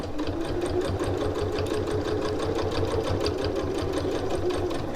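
A sewing machine stitches a seam on a reversible tote bag, its rapid, steady whirring running close and unbroken for the whole stretch with no other sounds.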